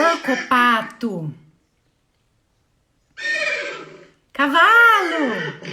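A horse whinnies twice after a short spoken bit, the second neigh louder and more drawn out, heard close and clear.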